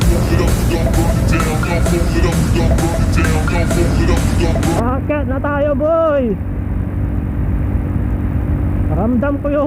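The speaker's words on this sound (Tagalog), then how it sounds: "Ramdam ko yung tunog ng ating makina." Engine of a Rusi Korak motorcycle climbing uphill, a steady low rumble beneath someone speaking, with wind noise dropping away midway and the engine tone continuing alone.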